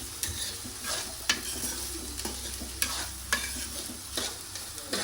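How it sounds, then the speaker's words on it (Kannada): Cabbage stir-frying in a hot pan for gobi fried rice, a steady close sizzle broken by repeated scraping strokes of a spatula against the metal, with no talking. "ಈ ಥರ ಫುಲ್ ಫ್ರೈ ಮಾಡಿಕೊಡ್ರಿ."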